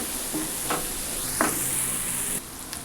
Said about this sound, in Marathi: आता हे मसालेसुद्धा व्यवस्थित फ्राय करून घ्यायचे